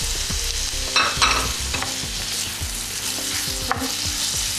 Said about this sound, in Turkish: Sürekli karıştırarak kavuruyoruz.